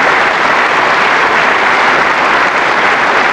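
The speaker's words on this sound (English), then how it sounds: "Please keep your applause going for James Tomkins" Loud, dense applause from an audience at an AFL All Australian and Team of the Century presentation night, a continuous wash of clapping held at steady volume throughout.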